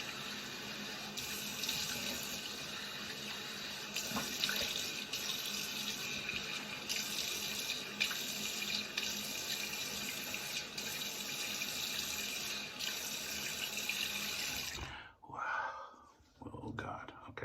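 A tap runs warm water continuously for rinsing a razor during a wet shave, a steady close hiss and splash that stops abruptly near the end, followed by a few brief handling sounds.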